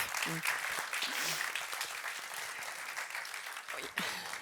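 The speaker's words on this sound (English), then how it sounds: "Pella, big applause." Steady applause from an audience at an outdoor Stockholm +50 event, sustained clapping throughout with a brief voice beneath it.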